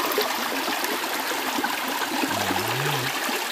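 River water flows in a steady, even rush beside an outdoor riverside cooking spot, with a brief low voice-like tone near the end.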